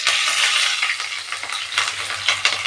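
Chopped green chili hits hot tempering oil, giving a loud, steady crackling sizzle with sharp spitting pops throughout and no voices.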